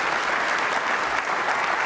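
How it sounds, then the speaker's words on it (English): Keynote audience gives the organizing team a round of applause, a dense, even burst of many hands clapping at steady loudness. "let's give them a round of applause for their great work."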